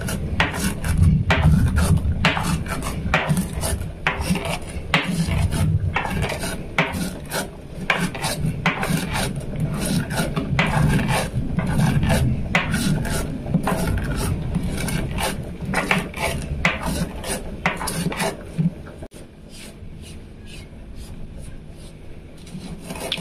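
Roasted spices, including coriander, are pounded by hand in a stone mortar for a spicy fish curry. Rapid rhythmic strikes and grinding scrapes carry on steadily for about twenty seconds before easing off.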